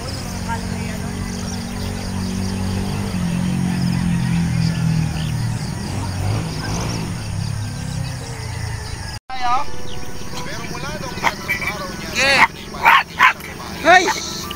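A dog barks in short bursts near the end, after a long stretch of outdoor talk and background noise on a mountain outing; voices speak around the barks.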